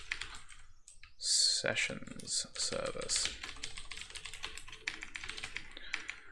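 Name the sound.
typing on a computer keyboard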